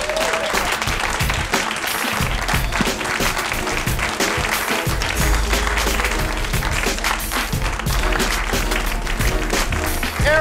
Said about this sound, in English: Erica Clark, give her another big round of applause.